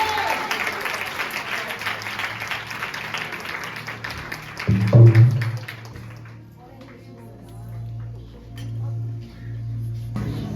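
A seminar audience claps loudly for about four seconds, and the applause then fades. A low sustained tone follows, with faint clinks and quiet background sound.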